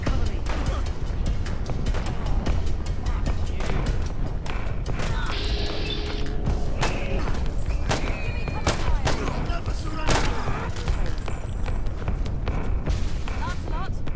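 Gunfire in the video game Fallout London rattles in dense, rapid volleys through a chaotic firefight, with a voice talking over the shooting.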